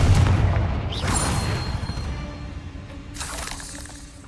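In the Hogwarts Legacy video game, a Confringo blasting spell erupts with a heavy boom and shattering crackle at the start, fading over a couple of seconds, followed by a second bright burst near the end.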